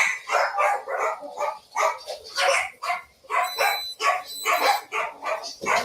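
Dogs barking in a video game, a dense run of repeated barks and yips at close range, loud and continuous with no talk over them.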